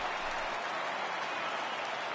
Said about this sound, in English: The crowd is ready to erupt as their guys get set to take the field.